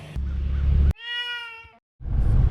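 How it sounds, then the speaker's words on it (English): An old cat gives one clear, drawn-out meow, close and distinct, set between bursts of loud low rumbling noise before and after it. "It was an old cat though, which is also strange."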